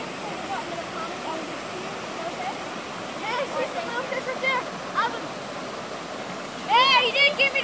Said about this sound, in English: So it's a natural spring creek, which runs a good, pretty far distance.